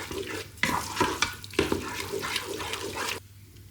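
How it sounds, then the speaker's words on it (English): Orzotto with creme fraiche stirred in a Ninja Foodi pot, a spoon making repeated wet scraping and squelching strokes against the inner pot, close and continuous, ending abruptly, no voices. "And then give it a good stir."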